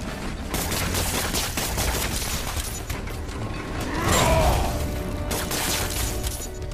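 Enemies open fire in Spider-Man PS4 with a sustained run of sharp shots and crashes, the volley swelling briefly toward the end.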